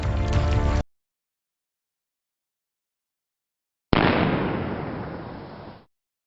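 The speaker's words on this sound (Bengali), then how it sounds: "আমাদের বন্দুকের আওয়াজে ওরা ভয় পেয়েছে।" Film gunfire aimed at attacking gorillas: a loud sharp blast cut off after a moment, a few seconds of silence, then a second heavy blast whose roar slowly fades away.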